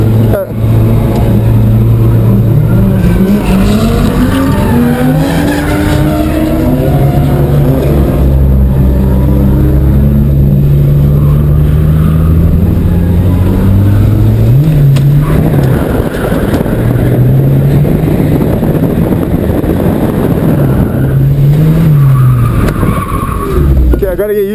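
Automatic Volvo 740 Turbo engine accelerating from inside the car, a loud steady drone with rising harmonic sweeps, a gear change around midway, then further climbing revs; people talk throughout.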